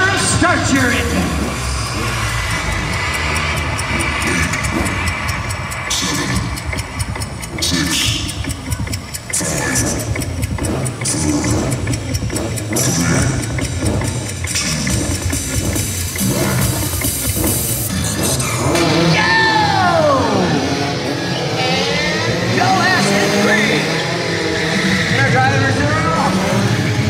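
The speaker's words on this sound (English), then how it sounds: "our drivers will fire up their vehicles!" Stunt show vehicles at an outdoor event fire up and rev their engines, loud rough motor roars and bursts mixed with crowd and announcer talk, with a rising whine of revving near the end.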